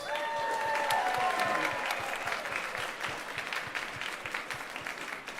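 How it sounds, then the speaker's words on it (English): A convention masquerade audience claps for costume makers, a steady wash of applause that slowly thins and fades, with a little voice overlapping at the start. "let's get one more round of applause for all of our makers"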